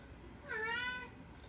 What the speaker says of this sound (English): we've even got the cat helping out today